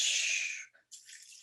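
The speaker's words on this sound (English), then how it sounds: "What will happen if I take some water and pour it onto the mountain?" Water poured onto a small pebble mountain: a close hissing pour that trails off, a brief gap, then a softer trickle resumes.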